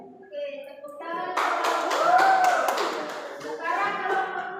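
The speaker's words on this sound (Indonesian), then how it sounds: "Oke, tepuk tangan." A classroom of pupils clap their hands together in a short burst of scattered claps, mixed with children's voices and chatter throughout.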